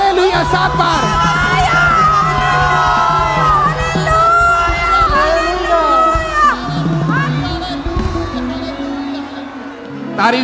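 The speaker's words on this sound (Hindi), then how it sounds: "7 बार ऊंची आवाज में हालेलुया, 7 बार" A church congregation at a Thursday testimony meeting shouts hallelujah loudly and repeatedly, a dense crowd of raised voices yelling and whooping together in sustained waves.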